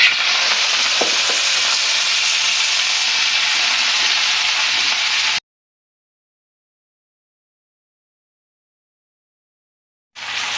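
Chopped ghatkol (kharkol) greens sizzle steadily in hot oil, a loud, close, even frying hiss that cuts out abruptly for several seconds and then starts again.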